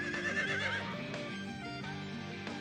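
A horse in the video game Choices: Untameable gives a clear, close whinny lasting a couple of seconds, its voice rising and wavering before trailing off.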